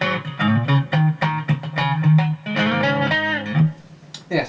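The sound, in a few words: Epiphone Nighthawk electric guitar, single coil pickup alone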